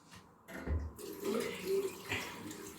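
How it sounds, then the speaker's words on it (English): Tap water runs steadily while skincare product is rinsed off, a continuous close splashing wash that rises after a brief quiet start, with small faucet-like fluctuations and no talking. "Now I'm gonna rinse it off."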